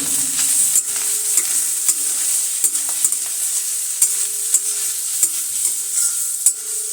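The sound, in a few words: stirring and roasting grated carrots in pan for gajar halwa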